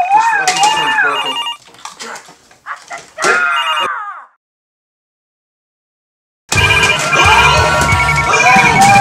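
Several telephones ringing, electronic ringtone tones sounding in bursts with an excited voice over them, a silent gap, then dense ringing resuming loudly.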